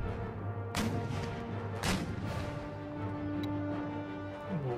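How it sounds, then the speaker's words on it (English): Heavy booming gunfire blasts in the video game Empire: Total War, a few sharp bursts over a constant low rumble and droning hum of battle, with no talking. "Gunfire."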